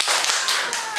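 A primary school class claps together in a short rhythmic burst of three sharp, close group claps during a maths lesson, bright and crisp with no talking.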